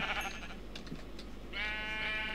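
A Minecraft sheep bleats twice, a short nasal bleat at the start and a longer, louder wavering one near the end, both close and standing alone without talk.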